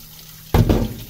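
Water from a kitchen tap suddenly gushes on at close range to rinse a large pork hock, and the splashing stream continues steadily.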